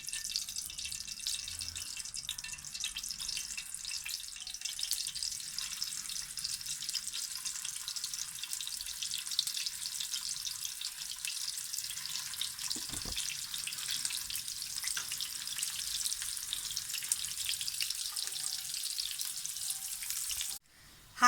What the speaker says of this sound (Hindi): ये सारे कबाब मैंने फ्राई पैन में डाल दिए हैं।